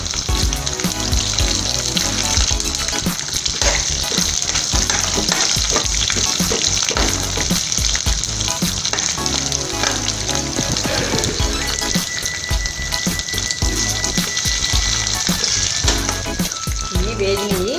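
Dried red chillies cut into small pieces, with curry leaves, fry in hot oil for a puffed rice mixture, giving a loud, dense, continuous sizzle and crackle close by throughout.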